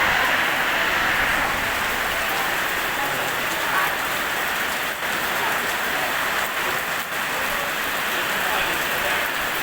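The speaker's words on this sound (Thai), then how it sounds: "ฝนตกครับ ถ้ายุดูร้อนเขาพี่น้องเอ้ย" Heavy rain from a summer storm pours steadily on a surface, a dense continuous hiss with no breaks, fairly loud throughout.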